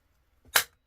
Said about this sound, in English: I pop the circles. I am sorry about the noise.